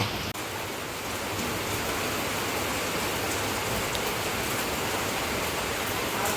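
Steady rain falls outside a home gallery during the monsoon, a continuous even hiss of drops at moderate distance with no pauses and no talk.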